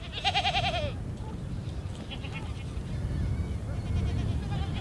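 Goats and sheep bleat at a desert well, one loud wavering bleat up close at the start, then fainter animal calls over steady outdoor noise and a busy herd.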